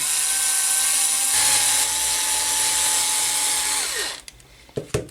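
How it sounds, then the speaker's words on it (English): A 2.5mm drill bit bores through a Tamiya TT02 RC car part with a steady high-pitched whine that holds for about four seconds before stopping, followed by a few light clicks. "I'm going to drill right the way through."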